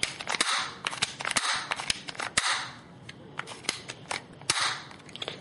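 A CYMA P.618 airsoft pistol, silver or black with maroon grips, goes off on its own in a rapid, irregular run of sharp cracking shots. The snaps sound close and fairly loud, with no talk over them.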